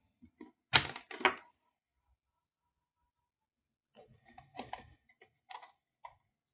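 Cheap computer mouse buttons clicking, a quick pair of crisp clicks, a silent pause, then a looser run of several lighter clicks close by.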